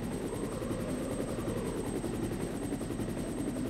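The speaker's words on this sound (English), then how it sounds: "There's the chopper." Helicopter in the Resident Evil video game, a steady loud rotor chop with engine drone that holds evenly throughout with no pauses.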